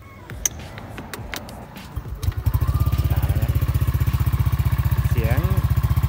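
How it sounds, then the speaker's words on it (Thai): A Yamaha N-Max 155 scooter from 2020 with an aftermarket exhaust starts up after some clattering handling, then settles into a loud, steady, rapid-pulsing idle close by, with a brief whine near the end. "ตอนนี้เราก็จะทำการสตาร์ทนะเพื่อทดลองฟังเสียงเบื้องต"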